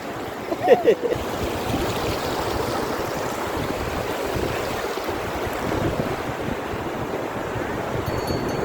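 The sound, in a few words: sea waves washing ashore on Konkan beach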